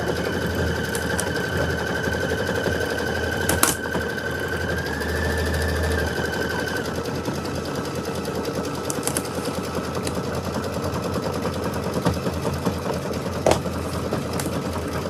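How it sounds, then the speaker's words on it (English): A multi-needle embroidery machine stitching away, a loud, steady rapid mechanical hum and chatter running continuously with occasional sharp clicks and taps. "my multi-needle has been stitching away"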